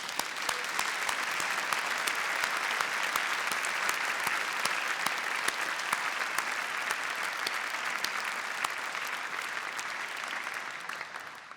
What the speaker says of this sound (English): So let's have a general clap.